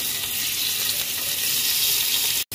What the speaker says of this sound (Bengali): পনির কিন্তু আমি হালকা করে ভেজে নেব